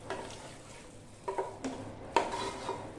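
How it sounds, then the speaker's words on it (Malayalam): Chicken coated in yogurt for biryani is stirred in a pot, giving soft scraping and a few light metallic clinks from the utensil against the vessel, close and quiet; no speech. "നന്നായി ഒന്ന് ഇളക്കുക."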